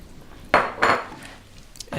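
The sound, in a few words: vegetables (turnip, carrots) dropped into a stew pot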